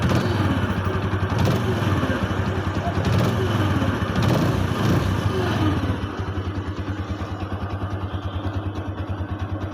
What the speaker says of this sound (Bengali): ভাবলাম যে ইঞ্জিনের সাউন্ডটা একটু দেখাই